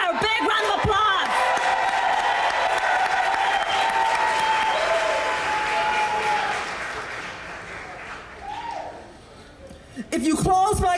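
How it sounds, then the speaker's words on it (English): Rally crowd applauding and cheering for an organizer at a Take Back Chicago rally, a dense wash of clapping with whoops that gradually thins out, then speech resumes near the end. "Give her a big round of applause."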